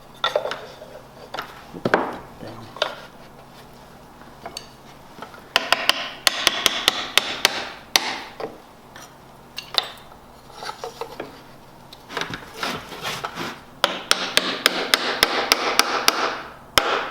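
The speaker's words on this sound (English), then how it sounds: "coat the wedges with glue, and drive it home" Glued wooden wedges are hammered into a stair tread housing in clusters of sharp, ringing blows, steady runs of taps broken by short pauses, close and crisp against a quiet workshop background.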